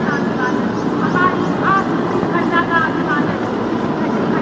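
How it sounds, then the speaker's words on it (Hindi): Mi-17 helicopters approach overhead at an Independence Day ceremony, showering flower petals on the venue. A loud, continuous engine and rotor rumble runs under a voice speaking throughout. "आकाश में Mi-17 हेलीकॉप्टर्स कार्यक्रम स्थल के नजदीक आते हुए और पुष्प वर्षा कर रहे हैं आकाश से"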